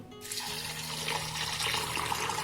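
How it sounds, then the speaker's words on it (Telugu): Water pours onto soaking rice and urad dal in a vessel, a steady close splashing gush that starts abruptly and continues alone. "వాటర్ పోసేసుకోవాలి"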